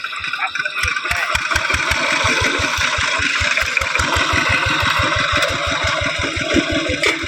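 A tractor engine plowing hard, dry rice paddy soil, chugging in a fast, even rhythm of low thumps that stays loud and close throughout, with a voice talking over it.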